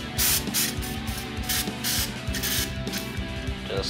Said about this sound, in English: give it a little spritz